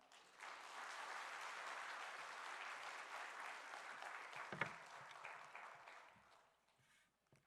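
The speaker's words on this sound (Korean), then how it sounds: "오늘 우리 조승희 목사님 나오실 때 우리 큰 박수로 힘차게 우리 환영하도록 하겠습니다" A church congregation at a Sunday worship service in Busan breaks into sustained applause to welcome a pastor, the clapping steady and broad for about six seconds before fading out.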